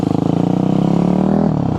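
Motorcycle engine running steadily while riding during wheelie practice, a loud close drone with a rising pitch that drops off sharply near the end.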